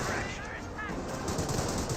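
Rifles firing in Company of Heroes during a WWII infantry battle, a dense, continuous spread of overlapping shots and bursts at mid distance, with faint voice-like fragments mixed into the clamour.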